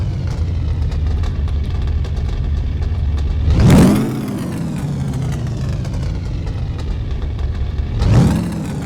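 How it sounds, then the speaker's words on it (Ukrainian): A motorcycle engine runs steadily, then revs sharply twice, with a loud rising whine and a shorter rev near the end. "занадто гучний, як для мотоцикла"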